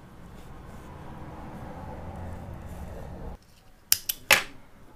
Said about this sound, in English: And cut the thread.